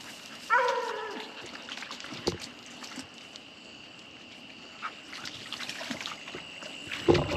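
A hunting dog trailing a raccoon at night in Louisiana bays a few times in the distance, faint drawn-out cries rising over a steady insect and ambient hum, with scattered nearby rustles.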